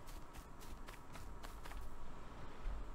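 Faint footsteps in a survival video game, heard as soft, evenly spaced thuds over a low, steady ambient hum with no talking.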